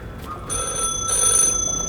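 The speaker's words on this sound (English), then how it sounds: "I think I hear phone ring." A telephone in the video game The Last Caretaker rings with a bright electronic trill, steady tones repeating over a low hum, moderately loud with no voices.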